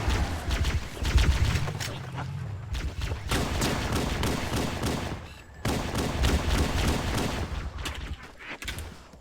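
Gunfire in the video game Halo: Combat Evolved, played on Legendary difficulty: dense, continuous bursts of shots and heavy thuds fill the whole stretch, with a short drop-off midway before the firing resumes.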